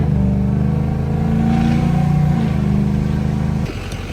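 A diesel pickup with a 6.0 Powerstroke and a very loud aftermarket exhaust gives a deep, roaring rumble up close, swelling as it revs, then dropping off abruptly near the end.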